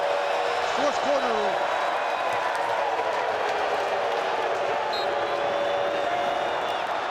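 A loud, sustained crowd roar fills a stadium during the fourth quarter of an XFL football game between the Arlington Renegades and St. Louis Battlehawks, with a brief voice near the start.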